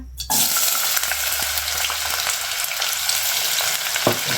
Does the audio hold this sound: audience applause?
no